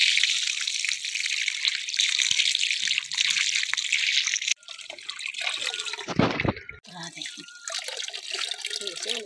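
Water from a mountain spring runs and splashes steadily, loud and close in the first half, then a nearer pouring burst with talk alongside.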